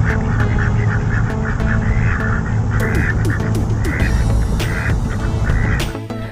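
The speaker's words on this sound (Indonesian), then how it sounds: "Wih, ternyata ini bebek." A duck quacks in a quick series of short, nasal, evenly spaced calls, close and fairly loud, with a little background noise.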